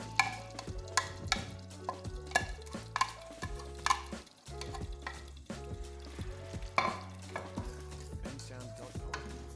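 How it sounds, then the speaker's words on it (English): A spoon repeatedly stirs a stew in a pot, with rhythmic scraping and knocks against the metal over a low simmer, while background music plays throughout. "I'll just keep stirring the stew so everything blends in very well"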